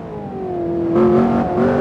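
Race car engine, a Jaguar prototype, revving and climbing in pitch under acceleration, loud and close with a smooth rising whine and no talk.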